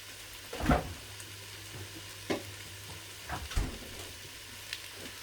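Ham stir fry sizzles softly in a Ninja Foodi while a utensil scrapes and knocks against the pot in a few separate strokes, over a faint steady hum.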